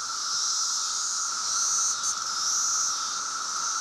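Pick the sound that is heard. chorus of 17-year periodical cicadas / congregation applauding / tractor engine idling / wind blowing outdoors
chorus of 17-year periodical cicadas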